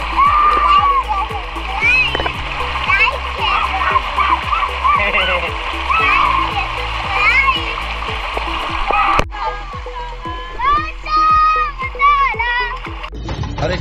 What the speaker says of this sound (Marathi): आता क्षण बघा किती मस्त एन्जॉय करतोय पाण्यात आमच्या